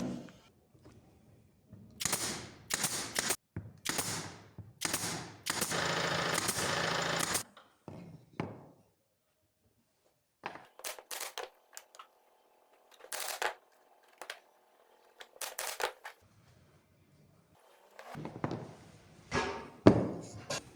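A nail gun fires into wooden slats and thin plates while a gift box is assembled by hand, delivering bursts of sharp, close snaps and clattering handling noise separated by quiet pauses.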